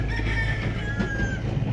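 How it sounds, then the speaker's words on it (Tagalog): Chickens and a rooster at a Chinese cemetery in a village, with a long crow rising above steady clucking and farmyard background noise for just under two seconds. "Maraming mga manok dito"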